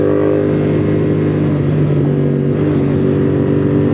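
A convoy of Royal Enfield motorcycles, a Himalayan leading four GTs and a chrome GT, drones steadily on the road, a loud continuous engine hum with wind rush and no talk.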